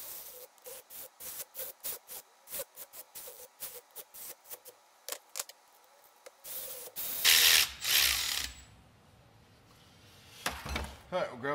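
A ratchet starting pump-to-case bolts on a GM 700R transmission clicks in short rapid bursts again and again, close and clear, before a louder clatter of handling near the end.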